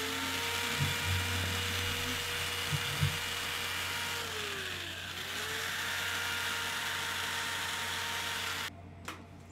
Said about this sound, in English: Any kind of residue with the CA is being sanded off here at this point